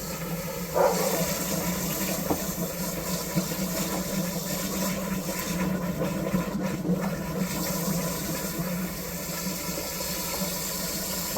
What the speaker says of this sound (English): Run your hose down there a little bit.